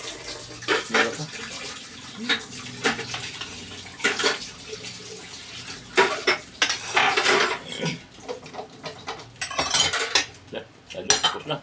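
Plates, dishes and cutlery clatter and clink while being washed, with running water from a tap underneath; the knocks come close and irregular, growing busier toward the end, and a voice speaks briefly in the background.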